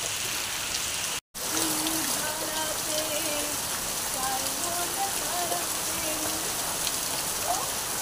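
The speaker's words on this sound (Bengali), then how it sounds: "গাইস দেখুন আমি বৃষ্টিতে ভিজছি," Heavy rain pours down steadily in a broad, constant hiss close by, with faint voice-like tones drifting beneath it and a single brief dropout near the start.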